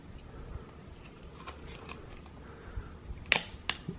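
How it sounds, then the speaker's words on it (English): Two sharp, quiet plastic clicks come near the end as the LCD of a BMW E90 gauge cluster snaps into place in a 2008 335i, after soft handling noises. "This is your LCD that just clicks in here."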